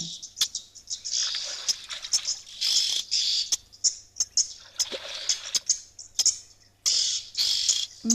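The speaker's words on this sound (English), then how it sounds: "Noisy birds." Birds call noisily at an African waterhole where white rhinos rest, a busy mix of high, shrill chirps and squeaks in repeated bursts with sharp clicks between them, fairly close and without talk.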